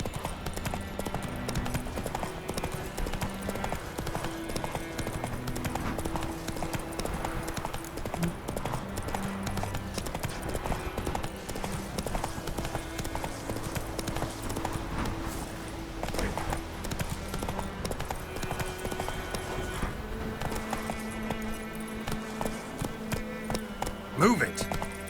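Horse hooves clip-clop at a steady gallop in The Witcher 3, a continuous rhythmic beat under game music, with a rider's voice calling out commands over it.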